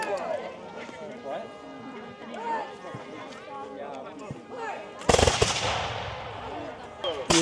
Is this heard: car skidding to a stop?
no